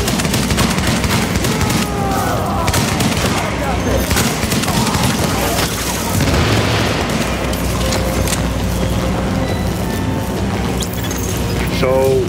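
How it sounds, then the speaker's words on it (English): Continuous video-game gunfire during a subway morgue mission, with rapid fusillades, booms and mechanical clatter across the whole stretch, loud and dense, while a voice talks over it. "That shooting, that was you"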